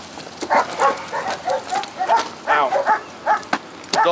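Dogs barking and yipping in sleeve bite training, a run of sharp, close, loud barks in quick irregular bursts, mixed with whimpers.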